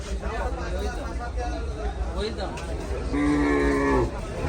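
Cattle at the Gabtoli cattle market low against a busy background of crowd chatter, with one clear, drawn-out moo rising near the end over the babble.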